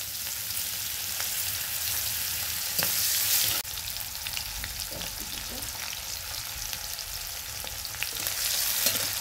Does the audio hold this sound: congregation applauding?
no